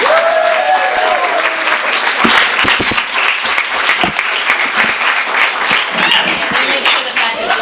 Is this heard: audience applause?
yes